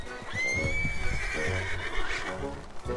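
A horse in the video game Red Dead Redemption 2 lets out a loud, clear neigh that rises then trails off, with scuffling hoof sounds and low rumbling underneath.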